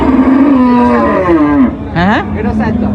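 A cow at a traditional cattle market lows loudly and close by, one long drawn-out moo followed by a second shorter call.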